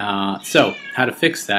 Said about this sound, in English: Yes, that's a cat in the background.